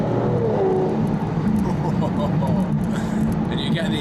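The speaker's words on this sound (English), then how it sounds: "I'm just going to squeeze my foot on the throttle and let it open up a bit." A steady, loud engine drone from an Aston Martin DBS accelerating under throttle, with the exhaust butterfly valves opening up; the note stays full and continuous throughout, brightening slightly toward the end.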